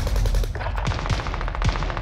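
Rapid bursts of automatic gunfire in a Warzone match, loud and close, with sharp repeated shots in quick rhythmic strings and a few heavier booms, no talk over them.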